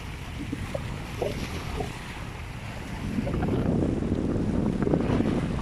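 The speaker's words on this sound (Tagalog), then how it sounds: "lakas na ng tubig ng alon" Strong waves breaking at Corniche Beach, surging surf rolling in and building louder midway, with wind buffeting the microphone and no talk over it.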